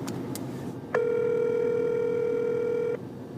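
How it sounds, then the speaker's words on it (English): Answering machine tone on a phone call: a single steady electronic beep lasting about two seconds, clear and close, following faint line noise and clicks. "Please leave a message after the tone."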